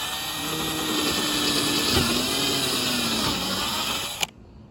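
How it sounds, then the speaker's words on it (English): Steady high-pitched whine of a power drill grinding continuously through a fiberglass van bed, close up, stopping abruptly near the end. "Letting the drill do the work."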